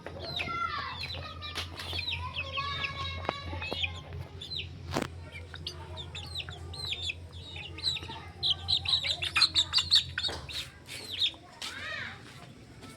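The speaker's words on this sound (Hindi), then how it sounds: "ये देखिए हमारे मुर्गी हर दिन आते हैं मेरे पास।" Chickens cluck and squawk close by at a home, with a burst of quick repeated clucks partway through and steady low background noise underneath.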